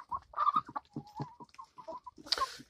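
Backyard chickens cluck and bawk close by in a rapid, irregular series of calls, ending in a sharper squawk, with no talking.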